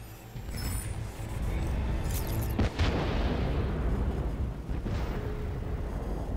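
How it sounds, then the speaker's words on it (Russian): Batman: Arkham Knight gameplay features a rocket artillery barrage, with heavy booming explosions and a sustained roaring rumble, loud and continuous, and a sharp blast near the middle. "Что за шквальный ливень? Залпового огня установка."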